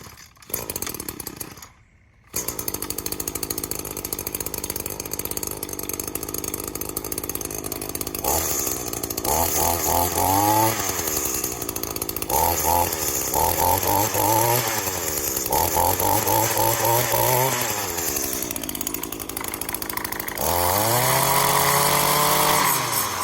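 An Echo chainsaw starts and runs close by, idling steadily, then revving hard several times in rising and falling bursts before a final long rev; nobody speaks.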